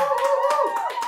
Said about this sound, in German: Bravo, Applaus.